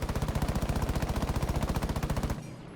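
Maestro's gun in Rainbow Six Siege fires one long, steady automatic burst of rapid, loud, evenly spaced shots that ends abruptly, leaving a brief quiet tail.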